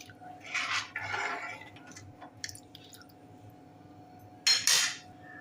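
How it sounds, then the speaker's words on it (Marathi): A spoon stirs masala dal with red chili powder, peanut powder and garam masala in a pot, giving soft wet scraping bursts and a couple of sharp metal clinks against the rim, close and quiet. "आता हे छान मिक्स करून घेऊया"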